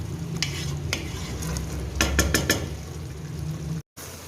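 Black chickpeas and spices stir-fried in a pan sizzle steadily while a utensil scrapes and stirs in brief bursts, close and continuous with a moment of silence near the end.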